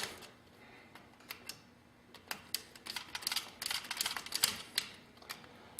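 Tightening a terminal screw on a 20 amp circuit breaker: a run of small, sharp metallic clicks and ticks, irregular and close, getting denser toward the end, with no talk.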